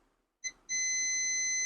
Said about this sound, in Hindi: ये बीप दे रहा है,